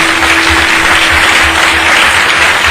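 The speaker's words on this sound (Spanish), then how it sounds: "Podemos darle un fuerte aplauso" A church congregation gives a loud, strong round of applause after a prayer, a thick continuous wash of clapping close and steady throughout, with a low rhythmic thumping underneath.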